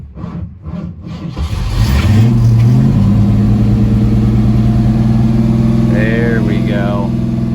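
A newly acquired racecar, just jump started, sputters to life and then settles into a loud, steady running engine note with rising revs, close by, and someone speaks briefly at the start.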